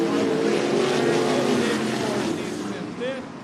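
Loud, steady engine roar from limited sprint cars racing down the back straightaway on a dirt oval speedway, the pitch shifting slightly as they pass and fading near the end.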